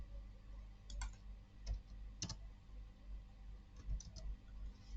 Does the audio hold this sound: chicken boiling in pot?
no